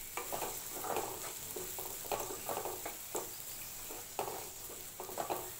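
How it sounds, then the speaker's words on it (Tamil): Carrots sauté in a pan for egg fried rice, a steady soft sizzle broken by repeated rhythmic stirring scrapes and clicks of a utensil against the pan, with no talking. "கேரட் நல்லா போட்டு வதக்கிக்கலாம்."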